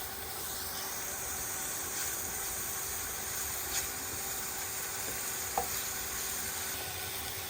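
Carrot sautéing with sugar in a pan for carrot payasam, giving a steady soft sizzle and hiss with a few light stirring clicks throughout, close and fairly quiet, no voices.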